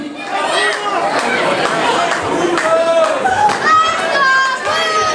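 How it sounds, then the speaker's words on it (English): Crowd noise at an independent wrestling show (ESW, 2013) fills the whole stretch, a steady roar of chatter and shouts with rising cheers and whistles, loud and continuous with no clear single voice. "Crowd urging Puma to capitalize now"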